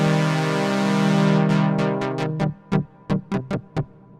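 A Chroma Polaris synthesizer sounds rich held chords with a long decay, then a series of short plucked notes repeated in a quick, uneven rhythm, close and clear with no talking.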